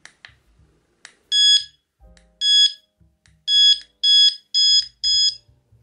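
Close, loud electronic beeps come from a carp fishing bite alarm as its volume is adjusted: a few single beeps, then a quicker run of four, with soft clicks and handling noise between them.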